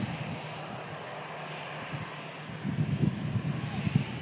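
A Hainan airliner taxis at Manchester Airport, its engine a low steady rumble heard from a distance that swells a little toward the end, with a voice talking over it.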